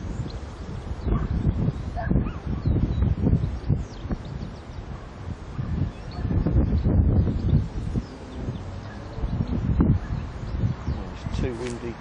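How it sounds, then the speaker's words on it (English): Strong wind gusting across an open common, a constant rumbling roar with surges and buffeting against the microphone throughout. "It's too windy."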